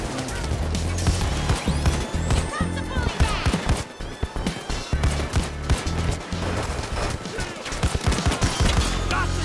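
Gunfire in the heist shooter Payday 2: steady, sharp shots and clattering impacts run throughout a busy firefight with a musical soundtrack underneath, loud and close.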